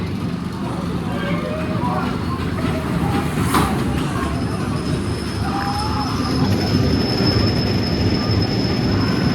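The Bobcat family roller coaster at Six Flags Great Escape rumbles along its track with a steady roar and occasional high wheel squeal, with faint voices under the noise.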